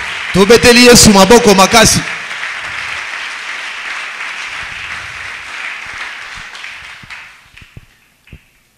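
A church congregation applauds and cheers in praise during a worship service, with loud rhythmic clapping for about two seconds, then a sustained crowd roar of voices and acclamation that slowly fades away.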